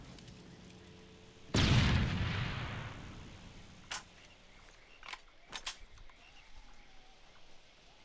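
A grenade goes off in a video game firefight with a loud broadband blast that decays over about two seconds, followed by a few sharp scattered gunshots and quieter background rumble; no one speaks.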